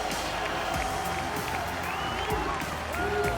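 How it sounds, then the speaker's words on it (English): A large crowd cheers and applauds in an esports arena in France at a League of Legends Mid-Season Invitational finals match, a dense steady roar of clapping and shouting under a commentator's voice. "Listen to France as they are cheering for Uzi."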